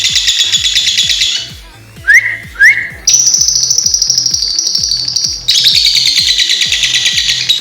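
Lovebird fighter of the mentil type chirping in loud, busy bursts of high tweets and sweeping whistles, a sharp rising call cutting in twice midway, all close and continuous over a faint rhythmic background thump.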